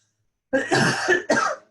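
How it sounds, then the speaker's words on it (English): A short burst of throaty coughing up close, two quick harsh coughs with a brief gap between them, loud against silence. "Excuse my coughing, I have allergies."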